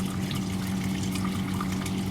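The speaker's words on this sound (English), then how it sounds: "We can see the outflow through the pipe, and water is flowing through the orifice meter" Water flowing through a pipe and an orifice meter, a steady, even rushing hiss with a low hum underneath, continuous and unchanging throughout.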